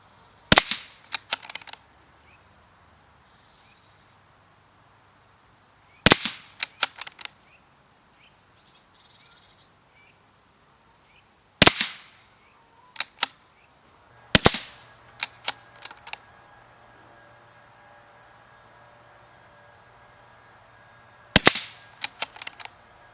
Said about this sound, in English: Every time I changed ammo, I shot at least 5 shots into the backer